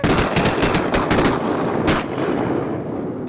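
Rapid volley of shotgun blasts fired at ducks during a waterfowl hunt at Reelfoot Lake, several overlapping loud reports in the first two seconds followed by a lingering outdoor rumble.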